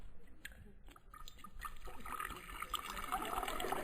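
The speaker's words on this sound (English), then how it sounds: "Now, I'll just pour you a short one." A drink is poured from a freshly uncorked bottle in an old 1941 Christmas radio comedy sound effect, a soft liquid trickle that builds into a steady, fuller gurgling stream, fairly quiet with a little hiss in the background.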